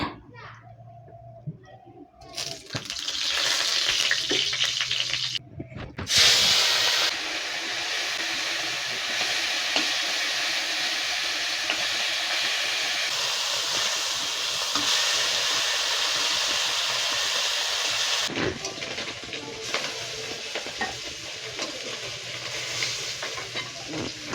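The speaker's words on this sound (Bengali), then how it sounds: "মাছগুলোকে এখন ভাজবো।" Small fish frying in oil in a wok, with a loud, dense sizzle running for most of the stretch alongside scraping stirs and occasional knocks, talk heard briefly.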